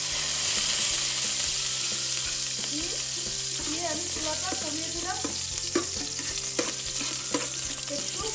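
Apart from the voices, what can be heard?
whole spices frying in oil for chicken tehari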